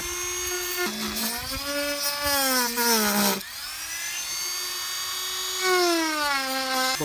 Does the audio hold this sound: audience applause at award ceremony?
no